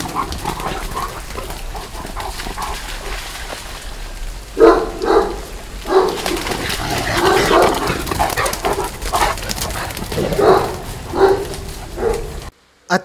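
Several dogs play together, giving short grunts, snorts and yips in uneven bursts over steady background noise, with some nearby rustling throughout.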